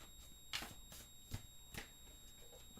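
Quiet, close-up riffling of oracle cards being shuffled in several quick bursts, with soft handling noises between them.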